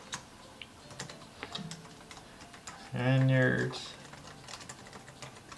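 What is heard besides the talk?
typing on a computer keyboard during a typing test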